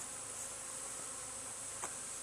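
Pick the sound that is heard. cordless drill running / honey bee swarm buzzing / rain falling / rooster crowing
honey bee swarm buzzing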